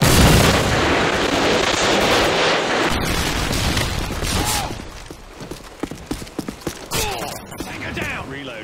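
A Predator missile strike in Call of Duty Modern Warfare 2 on the Overgrown map hits with a heavy, loud explosive roar. The blast then gives way to scattered gunfire cracks, clanking and shouted voices.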